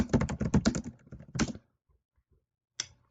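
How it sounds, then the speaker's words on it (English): Fingers typing a search query for carpet cleaning in Orange County on a computer keyboard, a quick burst of clustered keystrokes for about a second and a half, then silence and one last short tap near the end. "Type that in."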